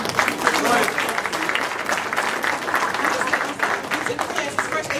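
An audience at a school board meeting applauds steadily for about five seconds, a dense, even wash of clapping with a few voices mixed in.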